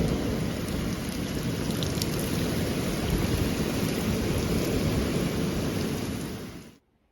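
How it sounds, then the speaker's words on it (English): Torrential rain mixed with hail pounds a roof in a dense, constant roar that holds steady for several seconds before fading out abruptly, with no voices present. "let me just show you the torrential rain we had earlier."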